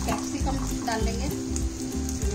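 Capsicum hits a pan of frying chickpeas and onion, setting off a loud, close sizzle that is stirred in rhythmic scraping pulses.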